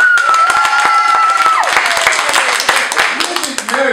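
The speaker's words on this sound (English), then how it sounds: "Our studio audience is going to pick for you. By a round of applause" A comedy troupe's studio audience claps and calls out to vote in a dating game, loud close applause mixed with shouts and voices over it.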